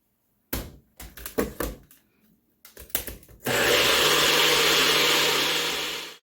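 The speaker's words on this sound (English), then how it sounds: "We're gonna blend our delicious gravy." A few clicks and clatters of a lid and jug, then a countertop blender roars loudly and steadily for about three seconds while blending gravy for beef pot roast, stopping abruptly.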